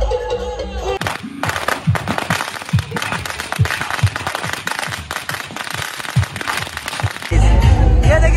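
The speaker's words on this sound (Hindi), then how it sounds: "पटाखा" A rapid string of firecrackers bursts in loud, crackling pops for several seconds, with crowd noise and chanting voices in the background at a street celebration in Patna, India.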